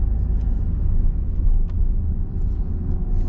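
A car accelerating gently during a driving lesson gives a low, steady engine and road rumble heard from inside the cabin, smooth and even throughout with no talk over it.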